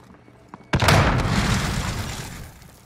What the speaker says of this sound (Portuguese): Lançando granada.